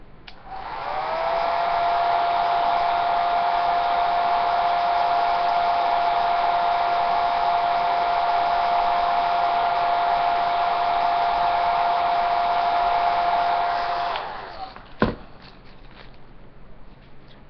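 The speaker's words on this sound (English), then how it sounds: "then I'm going to heat it again with my blow dryer" A blow dryer runs steadily for about thirteen seconds, heating Jamberry nail wraps, then switches off and winds down, followed by a single sharp click.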